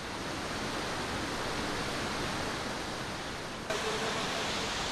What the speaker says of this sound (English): I walk to the middle of the waterfall by following a trail along the cliff.